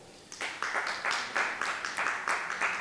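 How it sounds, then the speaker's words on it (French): Scattered, fairly quiet clapping from an audience at a panel event, a handful of individual claps in uneven rhythm rather than a full ovation. "sous vos applaudissements."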